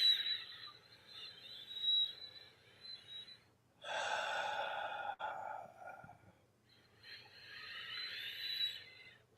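A deep breath drawn in and then blown out slowly in long, soft airy whooshes, close and quiet, repeated with pauses between.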